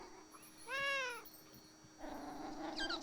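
A cat in the video game Beyond Eyes gives two short meows, one clear and rising, then a second softer one near the end, heard alone over a quiet game background.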